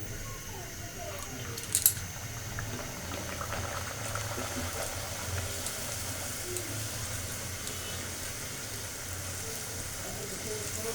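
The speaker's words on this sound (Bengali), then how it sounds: "লুচিগুলো বেলে নিয়েছি, এই যে এই সাইজ করে গোল করে সুন্দর করে আমি এখন ভেজে নেব।" Rolled spinach luchi sizzle in hot oil in a kadai, a steady bubbling, crackling fry that carries evenly throughout with a brief sharper pop near the start.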